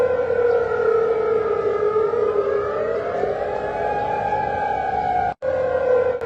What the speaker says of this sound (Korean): 걸프 지역 곳곳에서 사이렌이 울리고